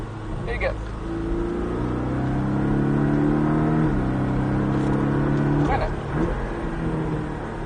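A Porsche 718 Cayman S accelerates hard on a track, its loud engine note climbing steadily before a quick gear change and another rising pull, then easing off near the end, heard from inside the car.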